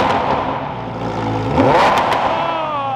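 Lamborghini Huracan STO engine on a cold start, revving loud and close with a rising, swelling roar mid-clip, then settling into a steady high idle.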